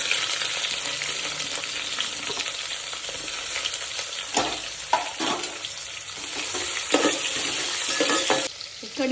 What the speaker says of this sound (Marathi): आता आपण आता जिरी टाकून घेऊयात जिरी मोहरी हे तेजपत्ता आहे थोडासा कांदा